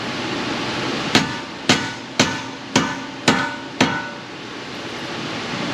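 Six sharp hammer strikes on a tight nut of a 2010 Honda Civic 1.3 CVT Hybrid, knocking to shock it loose, spaced about half a second apart, close and loud over a steady background hiss.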